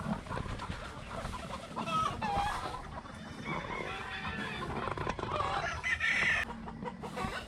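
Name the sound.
gamefowl rooster and hen clucking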